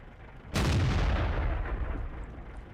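A tank gun in World of Tanks fires one loud, close blast, aimed into a bush, with a long rumbling tail that fades slowly.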